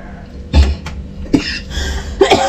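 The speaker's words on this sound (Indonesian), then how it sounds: "Lagi pada batuk kita" Three separate coughs ring out close by, spaced apart, each a short harsh burst with quiet background between them.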